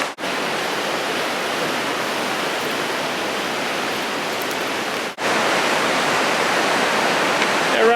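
Roaring floodwater of the Big Thompson River during the 2013 flood, a dense, steady broadband rush that fills the whole clip, loud and close, with a brief dropout near the middle.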